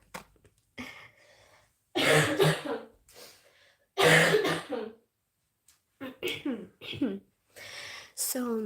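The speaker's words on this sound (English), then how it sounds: "I'm going to cough again" Several harsh coughs and throat clearing from one person, close and loud, coming in bursts separated by short quiet gaps and breaths.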